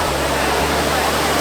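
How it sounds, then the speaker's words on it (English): Dense, loud rush of falling water from the Trevi Fountain in Rome, a constant broadband roar that fills the moment without pause. "So we're here at Trevi Fountain in Rome."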